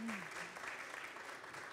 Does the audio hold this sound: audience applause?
yes